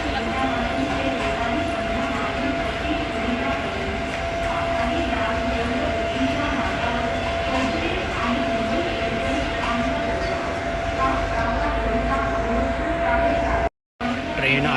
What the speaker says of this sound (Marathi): ट्रेन आलेली आहे फायनली.